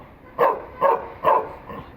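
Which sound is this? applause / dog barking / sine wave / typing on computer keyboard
dog barking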